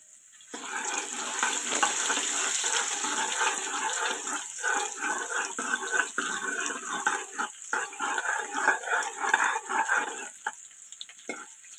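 Cumin seeds and ginger frying in a pan, a close, steady sizzling crackle that holds for several seconds with small bursts and pops, then thins out near the end.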